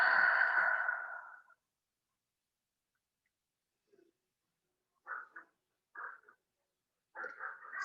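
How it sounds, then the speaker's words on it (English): A deep exhale through the mouth during a yoga flow, a breathy whoosh lasting over a second, followed by near silence and a few faint, short sounds. "And maybe one big inhale and exhale out to your mouth."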